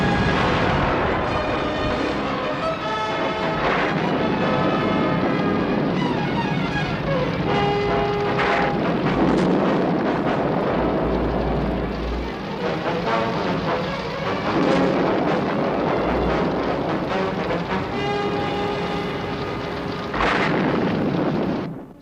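A city building burns in the Thunderbirds episode City of Fire, giving a dense, loud, continuous roar with deep rumbling surges and crackling bursts that swell and fade throughout.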